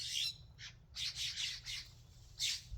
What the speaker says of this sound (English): They're blue jays.